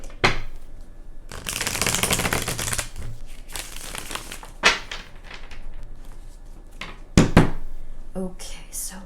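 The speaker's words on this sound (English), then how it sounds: "I need an extra shuffle here" Close, sustained shuffling of a tarot deck with dense papery riffles and a couple of sharp taps of cards squared together, steady hum in the background.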